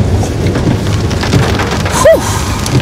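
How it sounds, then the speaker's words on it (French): Heavy rain falls in a loud, unbroken close-up roar of drops striking surfaces, with a brief tonal whistle near the end. "This rain is not here to play."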